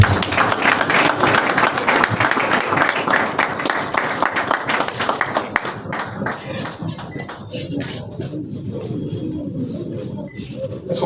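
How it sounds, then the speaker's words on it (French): An audience at an awards evening applauds, with dense, loud clapping for several seconds that gradually thins into scattered individual claps. "Est-ce qu'on peut acclamer encore, s'il vous plaît?"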